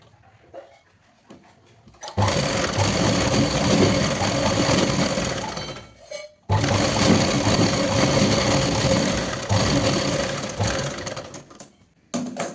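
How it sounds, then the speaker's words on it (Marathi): A home sewing machine stitching a potli bag runs in two long bursts of fast, whirring stitching, loud and close, separated by a brief pause, with quiet handling sounds before and after. "या अशा पद्धतीची हे अशा पद्धतीची एक शिलाई पूर्णपणे मारून घेणार आहोत आपण."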